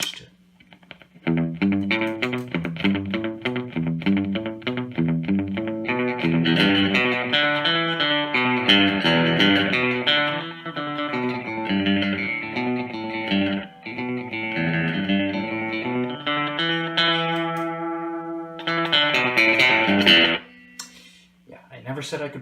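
An electric guitar runs through a Toronto City Transit Delay Deluxe pedal, played in loud strummed chords and single notes with slapback echo repeats trailing each phrase, carrying on steadily with a brief pause before a final burst.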